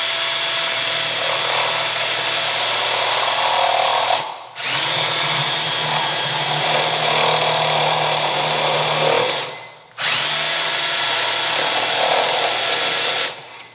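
A small drill bit bores into a tiny ATV carburetor part, making a loud, close whine in three long bursts separated by brief pauses, with no speech.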